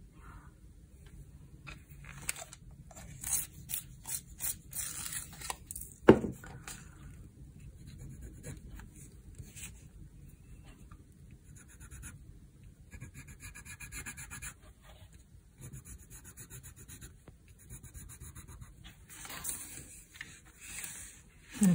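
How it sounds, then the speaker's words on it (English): A pencil is sharpened during gelatin print finishing, a faint, rapid scraping and rubbing in short bursts that come and go over about twenty seconds, with quiet room noise in between. "I think I need to sharpen this pencil."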